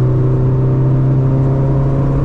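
Steady, loud droning hum of a Chevrolet Corsa Wind 1.8 engine cruising on the highway around 100 km/h, a continuous in-cabin whir with tonal engine notes and no talking.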